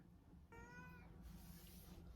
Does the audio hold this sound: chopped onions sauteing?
no